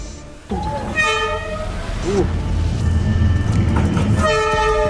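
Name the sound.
train passing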